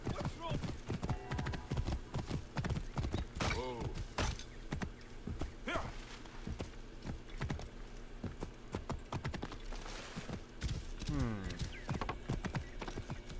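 A horse's hooves clip-clop in Assassin's Creed Origins, a run of distinct, evenly spaced hoof strikes with an occasional whinny, layered under game sounds and a voice talking over it.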